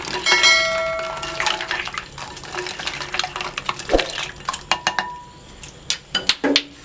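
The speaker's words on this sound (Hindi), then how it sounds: "इसे किसी भी स्पून की मदद से अच्छे से मिक्स कर लेंगे बर्फ के साथ।" A spoon stirs falsa (phalsa) juice with ice in a glass, producing rattling clinks and sharp ringing taps against the sides, with denser clatter early and a few louder isolated knocks near the end.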